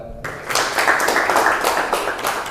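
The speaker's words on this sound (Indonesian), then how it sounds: "Tepuk tangan anak-anak." Students in an Indonesian vocational classroom break into clapping after a quiet start, a lively, continuous patter of many hands close by, with faint voices mixed in.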